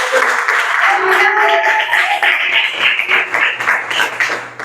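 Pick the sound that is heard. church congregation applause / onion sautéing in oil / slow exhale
church congregation applause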